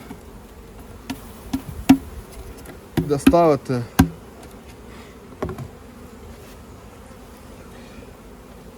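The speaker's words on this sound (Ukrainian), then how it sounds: "це в нас бджола Бакфаст" Buckfast honeybees buzzing steadily at close range at an open hive beneath a voice, with a few wooden knocks and clatters of hive frames partway through.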